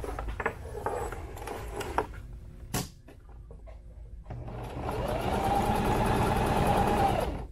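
A sewing machine stitches filler material onto a sling saddle, a steady continuous whir in the second half after scattered handling clatter and a sharp knock.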